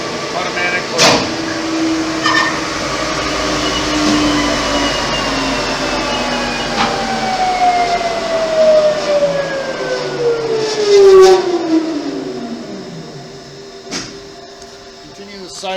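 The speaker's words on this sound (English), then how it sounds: "The machine will turn the spindle off, the table will retract" The spindle of a Blanchard 22AK 42 rotary surface grinder winds down, its whine sliding steadily lower over about thirteen seconds amid machine hum and a few sharp clicks as the table retracts.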